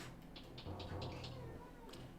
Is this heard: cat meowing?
yes